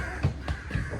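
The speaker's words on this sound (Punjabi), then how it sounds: "ਤੇ ਕਾਂ ਬੋਲਦੇ ਇੰਨੇ ਸੋਹਣੇ ਲੱਗਦੇ ਨੇ" A crow caws a few times in short harsh calls, fairly close, with no one speaking.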